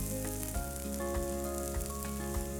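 Finely chopped cabbage hits a hot pan for a veg kebab mix, setting off a steady, loud sizzle and fry that runs without a break, with a few soft scraping stirs underneath.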